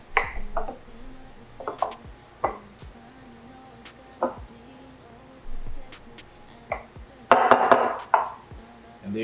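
A seafood pineapple bowl being stirred with fresh coconut, with intermittent close clicks and taps of a utensil against the bowl, a louder clatter near the end, over faint background hum.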